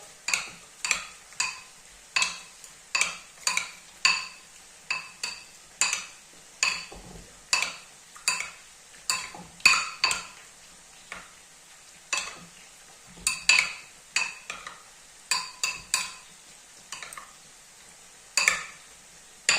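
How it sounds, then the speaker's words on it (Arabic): Repeated scraping and clinking strokes of a utensil in a pan as keftaji ingredients are mixed together, a steady series of separate close stirring sounds with quiet gaps between them. "نخلطو المكونات كل مع بعضها"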